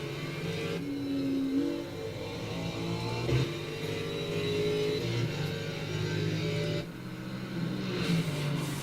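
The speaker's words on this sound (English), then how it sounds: "Cars sound good, eh? Especially that Lexus." A Lexus race car engine in a racing video game drones steadily at high revs, with gear shifts and pitch changes through corners and a brief dip in level near the end.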